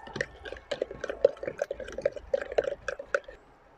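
A spoon stirs flour into water in a kitchen bowl for beef nihari, giving a quick irregular run of small wet clicks and sloshes, close and fairly quiet, with no talk.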